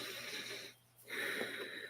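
During a guided meditation, one slow, deep breath is drawn in, followed by a brief pause and a long, soft, airy exhale, heard close and quiet with no talking.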